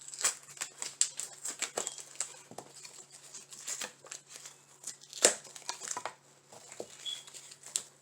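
Plastic eggs are pulled off a Dollar Tree Easter decoration, producing close, quiet, irregular crinkles, clicks and rustles of plastic with short pauses between handling noises.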